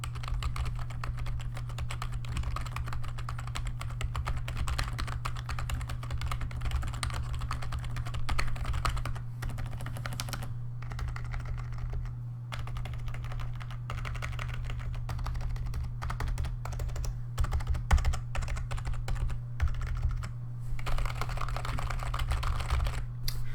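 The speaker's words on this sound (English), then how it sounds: "I'll also do a typing test" Steady rapid typing on a Corsair K55 computer keyboard, a dense continuous patter of key clicks over a low constant hum, with a few brief pauses.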